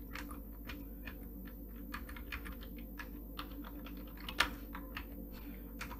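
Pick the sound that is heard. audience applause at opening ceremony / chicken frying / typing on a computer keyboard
typing on a computer keyboard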